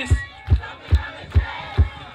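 A loud outdoor crowd at a kayak fun day in Carriacou, with a steady beat of heavy thumps about twice a second, like stamping or drumming, under sustained crowd noise.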